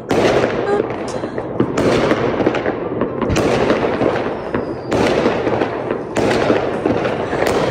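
Firecrackers exploding nonstop on Chinese New Year's Eve in a countryside village, loud dense crackling barrages in several bursts with brief gaps, nearby and filling the air.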